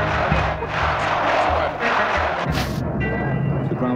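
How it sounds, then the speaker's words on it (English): A crowd of protesters surging forward, a loud mass of shouting and roaring voices with thumps, rising and shifting over a few seconds. "The crowd surges forward."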